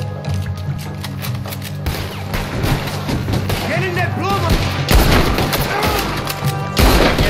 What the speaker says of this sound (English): There's another set of cannons up ahead!